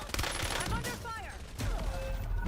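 Gunfire in a Call of Duty Black Ops battle royale match, a cluster of sharp shots amid busy game noise, with whistling and pitched effects layered over the top.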